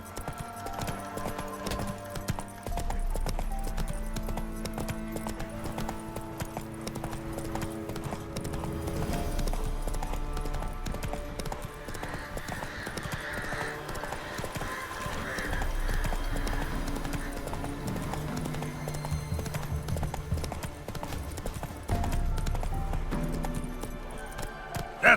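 Steady clip-clop of Roach the horse's hooves galloping in The Witcher 3, continuous and fairly close over a bed of game music, with an occasional faint snort.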